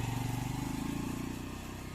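Motorcycle engine revving up close, a steady loud throbbing drone that slowly eases in pitch and level over two seconds.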